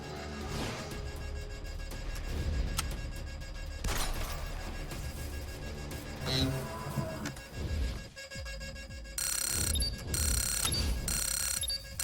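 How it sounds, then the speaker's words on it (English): A tripped alarm in the video game Wasteland 2 rings alongside busy game sounds and music, with a loud repeating alarm pulse in steady bursts toward the end. "Please turn off the alarm. I know I accidentally tripped it."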